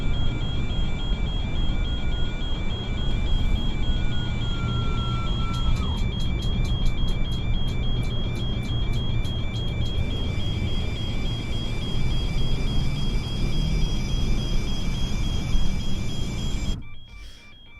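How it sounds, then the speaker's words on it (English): Persistent electronic beeping inside a vehicle on a road trip. Steady, repeating high beeps sound over a loud, constant road and engine rumble, with a brief flurry of faster clicks before everything cuts off near the end. "just deal with the beeping for a minute"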